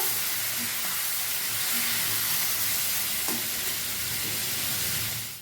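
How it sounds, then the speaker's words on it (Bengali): Spice paste for a Bengali hilsa fish curry fries in a pan with a little added water, giving a steady, close sizzle with occasional stirring scrapes throughout. "দিয়ে এই মশলাটাকে ভালো করে ভেজে নেবো।"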